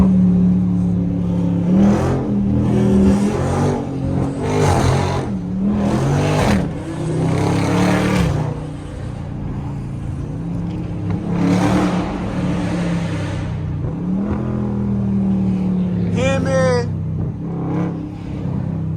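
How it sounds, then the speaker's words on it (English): A stage 4 cammed Chevy SS V8 accelerates in repeated loud, choppy surges with rough low rumble from inside the car, heard under people talking, with a short tire chirp near the end. "car sounds so good"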